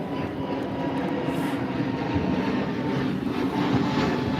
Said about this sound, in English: EasyJet A320. Deciding he wants to do the steepest takeoff known to man.